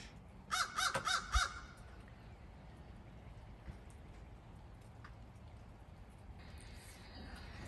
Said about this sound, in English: Not a raven, it's a crow.